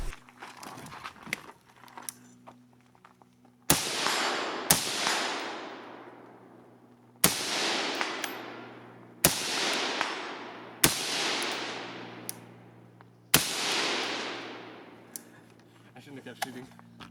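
Gunfire outdoors after a review of a LAPG Low Vis lightweight plate carrier: six sharp, loud shots spaced a couple of seconds apart, each with a long echoing decay, while a low steady hum runs underneath.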